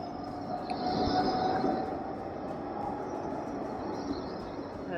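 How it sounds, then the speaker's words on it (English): A modern Blackpool tram rolls past at close range, a steady rail rumble and rolling hum with a faint high whine that swells around the middle and holds to the end. "This is one of the new trams."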